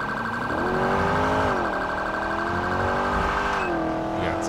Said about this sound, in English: The alarm going off already.